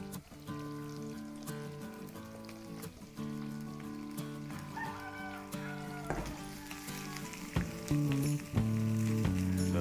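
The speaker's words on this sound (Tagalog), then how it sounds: "Lulutuin lang po natin yung ating onions." Onions and the white parts of onion leeks sizzle softly in a hot pan, the frying hiss mostly buried under loud, tonal background music.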